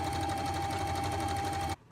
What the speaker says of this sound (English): You're going to do a straight stitch, and then you're going to do a zigzag stitch along the edge